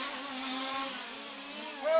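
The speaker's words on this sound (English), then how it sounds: "Should we show some cars going round?" Large-scale touring cars lapping a race track during EFRA European Championship qualifying: a steady mid-distance engine drone that holds for a couple of seconds and then rises at the end, with no talking.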